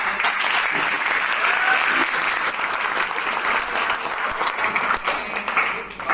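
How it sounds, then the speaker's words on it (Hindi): An audience at a network marketing talk gives loud, sustained applause in a hall, a dense roar of many clapping hands that swells and then tapers off toward the end. "एक बार आपकी जोरदार ताली होगी।"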